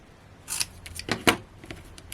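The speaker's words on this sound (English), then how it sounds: "I'm going to need those scissors." Scissors snip through card during cardmaking, a few quick crisp cuts close by, with a sharp loud snip near the middle and quiet gaps between.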